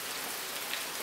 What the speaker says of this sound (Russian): сильный ливень с сильными грозами